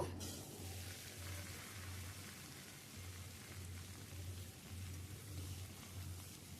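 Vegetables including eggplant, yam, potato and cabbage leaves frying in oil make a faint, steady rain-like sizzle throughout, with a pulsing low hum underneath.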